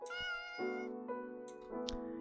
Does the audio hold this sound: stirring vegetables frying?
no